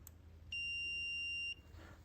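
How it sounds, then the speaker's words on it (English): A Raspberry Pi–driven buzzer sounds a single steady electronic tone for about one second, then cuts off cleanly, over a quiet room hum. "the buzzer goes on for 1 second and then turns off"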